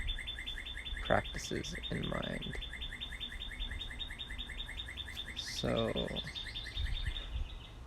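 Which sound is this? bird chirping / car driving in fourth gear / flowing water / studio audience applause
bird chirping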